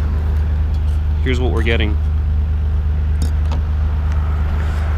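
A Nissan R32 GT-R cruising while low oil pressure is being watched, its engine a steady, unbroken drone heard from inside the car, with someone speaking briefly over it.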